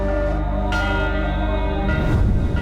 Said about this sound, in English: Near Iraq's ancient city of Ur, a new church recently rang its bell for the first time.